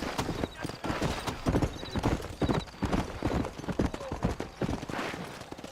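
Rapid, rhythmic hoofbeats of a galloping horse in Red Dead Redemption, steady and close, with faint jingling and a brief neigh mixed in.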